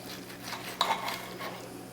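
Knife and fork cutting a piece of cooked steak on a plate, with light scraping and a couple of faint metallic clinks of cutlery against the dish, close and quiet.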